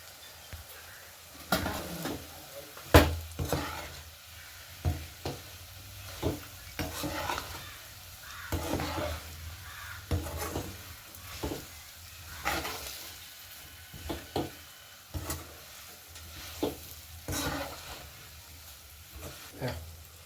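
A spoon scrapes and stirs a pan of sardine pickle as pickle powder is mixed in, with steady oil sizzling beneath rhythmic scraping clatters and occasional metallic knocks against the pan, close up and without talking.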